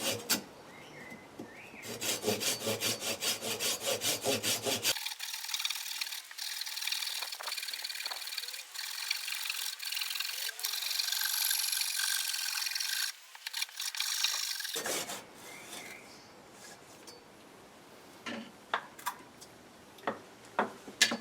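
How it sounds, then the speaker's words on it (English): A hand saw rasps back and forth through a green wooden branch being carved into a cup, loud rhythmic strokes in bursts with a steady run in the middle, close and alone. "So I just need to be a little bit careful while I'm sawing through this."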